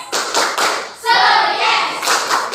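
Classroom students perform the rhythmic 'tepuk semangat' clap, bursts of quick, close hand claps in patterned groups mixed with children's voices chanting along.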